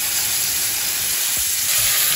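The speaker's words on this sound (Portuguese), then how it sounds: "5 minutinhos fritando" Rolled meat parcels sizzle steadily while frying in a pan, a continuous close broadband hiss with a few soft stirring knocks partway through, no voices.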